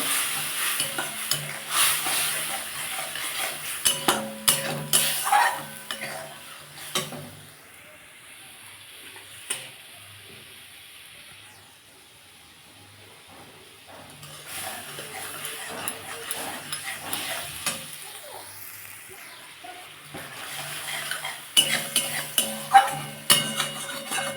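Besan fritter curry with sour yogurt is stirred and fried in a pan, giving bursts of scraping and soft sizzling that come and go, with a quieter stretch in the middle and louder stirring toward the end.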